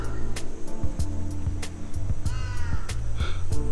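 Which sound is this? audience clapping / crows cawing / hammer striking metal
crows cawing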